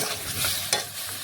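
Ridge gourd dusted with red chilli powder is stirred in a hot pan, giving a close, continuous sizzle and one sharp scrape of the spoon partway through, with no voices.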